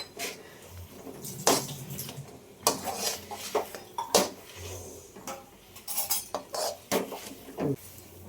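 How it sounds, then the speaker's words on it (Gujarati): Roasted gram powder being mixed into a date mixture, with a spoon clinking and scraping against a metal vessel in irregular bursts, close by and without talk. "આપણે અત્યારે દાળિયાનો ભૂકો ઉમેરી દીધો છે, હવે એને મિક્સ કરી દઈએ"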